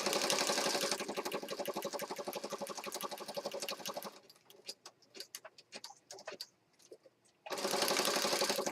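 A sewing machine rapidly stitches paper scraps for a mixed media masterboard, a fast close mechanical chatter in two bursts separated by a few seconds of scattered clicks and handling.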